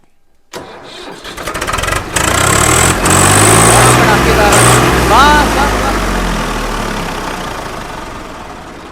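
A Swaraj tractor engine cranks and catches at once, then settles into a loud, steady diesel rumble that holds throughout, with brief chirps and clanks over it.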